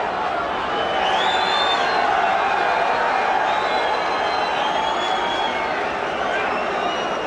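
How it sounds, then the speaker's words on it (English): A boxing arena crowd at a heavyweight fight swells into a modest roar, a broad sustained din with whistles rising above it, under ongoing commentary. "that little roar of the crowd was the arrival of Donald Trump with Marla Maples"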